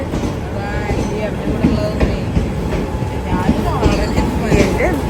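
A train rumbles past nearby with rhythmic rail clatter and metallic squeals, plus voices faintly mixed into the steady loud noise.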